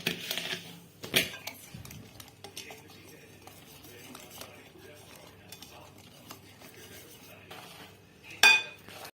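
Cocoa cake batter of milk, sugar and semolina being beaten by hand in a bowl, with scraping and clinking strokes, a few sharper knocks against the bowl, and quiet speech at times.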